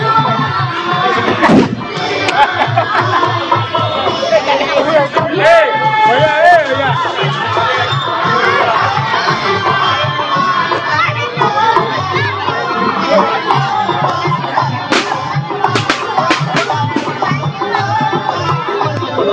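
Dense crowd of devotees at a Chhath Puja gathering in Bargarh, with continuous babble, shouts and occasional thumps, loud and close throughout, while someone narrates over it.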